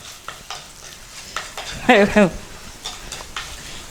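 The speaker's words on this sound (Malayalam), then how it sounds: "ഞാനത് ഫസ്റ്റിലേ അങ്ങോട്ട് കടുക് വറുത്തു" Mustard seeds frying and being stirred in a pan while making beetroot curd kichadi, with scattered spattering pops and scraping strokes, and a brief voice rising over the sizzle midway.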